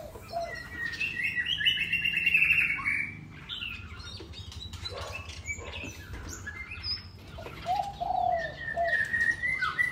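Munias chirp busily at a nest while feeding their chicks, with bursts of high twittering calls and softer cooing notes over a steady outdoor background, fairly close and continuous.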